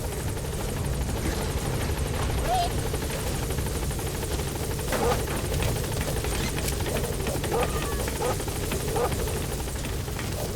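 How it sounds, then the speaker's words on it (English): A support helicopter arrives in Metal Gear Solid V: The Phantom Pain, its rotor drone a steady, loud whir across the whole stretch, with faint voice-like bits mixed in. "Support helicopter has arrived."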